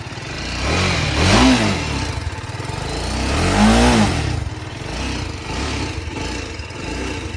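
A TVS Apache RR 310 motorcycle with a deeper, bassier exhaust revs twice in rising and falling sweeps over a rough, close idle that pulses on between the blips.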